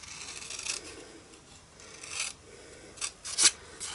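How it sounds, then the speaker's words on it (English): Scissors cut paper up to a score line for a papercraft box bag: quiet, close snips and rustling paper in a few short bursts, with a sharper cut near the end and no voices. "So we're just going to cut up here. To the score line, and then we're going to cut up here"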